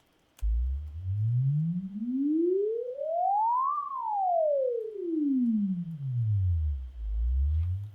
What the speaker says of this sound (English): this should sound to your ears like a more uniform trajectory across our perception of pitch